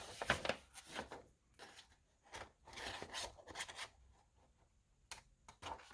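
Scissors trim a paper piece for a nautical journal page in soft, close, rasping snips and rubs that come in short bursts separated by quiet gaps.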